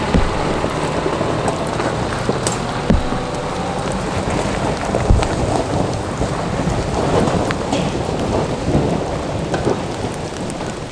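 Heavy rain pours during a four-wheel-drive trip on a muddy clay track near Coffs Harbour, a loud, constant wash of drumming drops with occasional sharper thumps and no talking.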